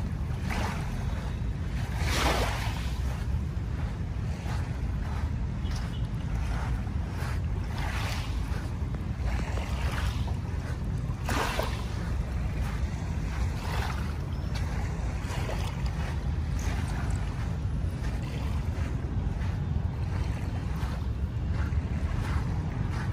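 Waves wash and slosh along the water in Manila Bay beside a trash boom, a constant low surging roar with periodic splashes and wind buffeting throughout, no voices.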